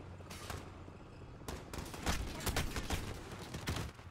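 Rapid gunfire from a Modern Warfare campaign mission in a video game, with dense, loud bursts of shots that come in quick clusters and overlap throughout.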